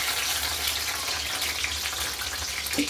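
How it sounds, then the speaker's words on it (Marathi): A steady, close hiss of hot oil crackling and sputtering as water is sprinkled over moong dal fritters frying in it, continuing evenly throughout with no voices. "आता थोडासा पाण्याचा शिरकाव मारायचा।"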